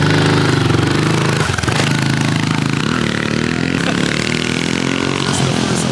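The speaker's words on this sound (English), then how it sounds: "Got a package on a bunch of pit bikes." Small pit bike engines run loudly and close, a dense buzzing drone that wavers and dips briefly before steadying, with no talking.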